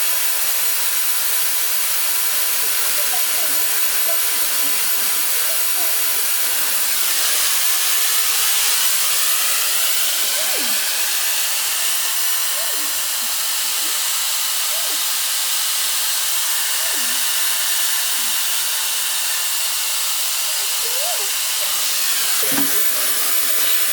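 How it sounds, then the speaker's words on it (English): A steady, loud hiss of a hair dryer runs throughout, with faint scattered squeaks and small sounds over the constant blowing. "She does not like my hair dryer."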